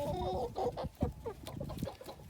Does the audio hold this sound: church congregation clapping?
no